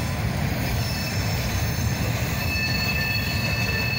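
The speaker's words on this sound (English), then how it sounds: "A lot of boxcars on here." Southbound freight train with many boxcars rolling past close by, a loud continuous rumble with high, sustained wheel squeal ringing over it throughout.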